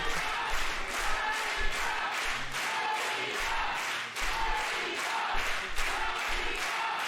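A wrestling crowd at Korakuen Hall cheers through a main-event match, a continuous wash of voices with bursts of shouts and clapping rising and falling, heard from ringside without any commentary over it.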